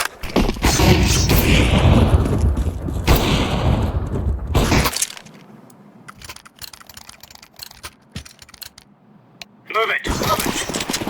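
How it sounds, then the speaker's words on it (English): A flashbang grenade goes off in the Counter-Strike 2 video game amid a loud, dense burst of gunfire and game noise for about five seconds, then a quieter stretch with faint scattered clicks before the noise swells again. "Flashbang."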